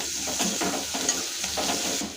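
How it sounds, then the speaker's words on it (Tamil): Steady sizzling of onions sautéing in a pan, with soft scraping and stirring strokes repeating throughout, close and continuous with no talking. "இது நல்லா வதக்கிக்கோங்க."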